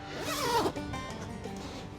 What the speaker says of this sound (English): run the zip up the other side.